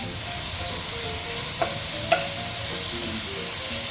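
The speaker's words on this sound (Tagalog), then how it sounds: "pinainit ko na itong kawali natin para sa bacon" Bacon fries in a preheated pan, giving a steady, close hiss of sizzling fat with a couple of brief sharp pops partway through and no voices.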